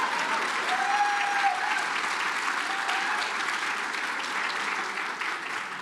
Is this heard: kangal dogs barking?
no